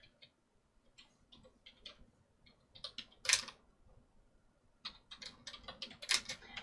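Keystrokes tapped on a computer keyboard in short irregular bursts and clusters, fairly close and quiet, with pauses between runs and a few sharper, louder key hits.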